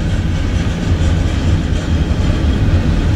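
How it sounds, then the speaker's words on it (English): A long CSX freight train of around 100 cars rolls steadily past on the Berkshire Subdivision in winter, a loud, dense continuous rumble of wheels and cars close by, with no voices. "Yeah, the train's only about half done."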